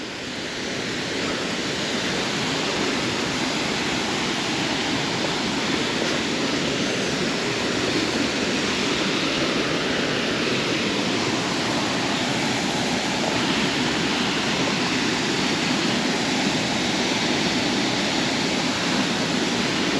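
Mountain waterfall in the Pyrenees roaring steadily and loudly throughout, a dense continuous rush of falling water close by with no pauses.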